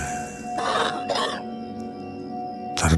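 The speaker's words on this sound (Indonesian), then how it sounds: "suara batuk seorang pria" A man coughs in a horror radio drama, giving a couple of harsh, close bursts followed by another cough after a pause, over a faint steady background hum.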